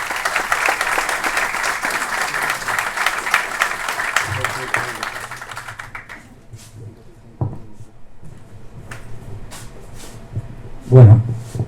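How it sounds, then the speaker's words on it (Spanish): An audience at a tribute event in Tucumán applauds the arrival of two speakers, with loud sustained clapping for about six seconds that then dies away, followed by quiet room noise, scattered sounds and a brief voice. "Un fuerte aplauso"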